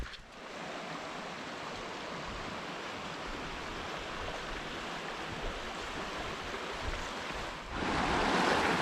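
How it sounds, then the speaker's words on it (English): Colorado River headwaters flow with a steady broadband rush of water, close and even throughout, swelling louder near the end, with no voices. "We just wanted to go out and see the Colorado River here."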